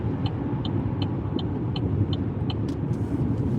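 Road traffic rumbles steadily along a Chicago-area street, cars passing in a continuous low wash with faint, evenly spaced ticking above it and no voices.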